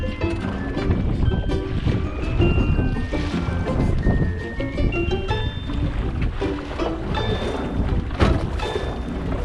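A mini model tugboat's small motor runs at full throttle on water on a bright morning, a continuous close churning buzz mixed with splashing and gurgling wake, steady and loud throughout.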